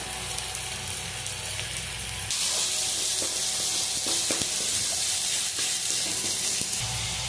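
Fried spice paste sizzles steadily in a pan after chili powder goes in, the hiss jumping louder partway through and continuing with scattered stirring clinks, no voices.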